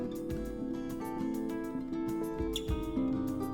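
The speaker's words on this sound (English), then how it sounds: "Little piano." Little looped piano figure sitting inside a dense layered beat with strummed acoustic guitar and electronic bleeps, steady and repeating throughout, no voices.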